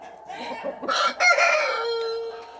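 A single young Ameraucana rooster crows nearby, a loud, drawn-out cock-a-doodle-doo rising and then trailing off.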